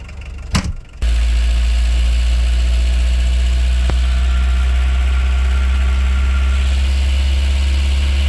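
A camper van's engine drones loud and steady while driving, a low constant rumble with vibration that follows a brief clatter at the start, with no talk.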